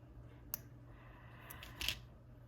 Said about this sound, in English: I'm just gonna take my scissors and I'm gonna snip off these extra